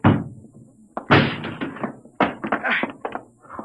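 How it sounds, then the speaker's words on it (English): Radio drama sound effect of a door being broken down, loud close thuds and crashing blows in several heavy bursts with splintering impacts between. "Break down the door."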